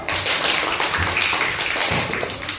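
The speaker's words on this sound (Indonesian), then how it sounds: "Baiklah, kita kasih tepuk tangan untuk kelompok 1." A group of classmates claps for group 1 in a classroom, dense, continuous hand clapping at close range lasting a few seconds.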